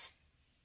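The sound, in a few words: silkening hair mist being sprayed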